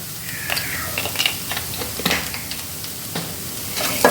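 Chili powder and black pepper powder heating in a pan, giving a quiet, steady sizzle broken by scattered crackles and the scrape of stirring, with no talking.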